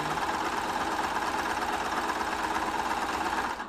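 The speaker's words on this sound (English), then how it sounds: "This is a Singer sewing machine." A Singer Confidence Quilter sewing machine runs steadily while binding a large quilt. Its needle clatters in a fast, even, continuous rhythm, close and loud, with no voices.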